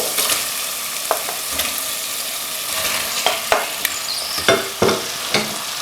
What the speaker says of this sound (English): We're just ready to add the chicken for stir frying.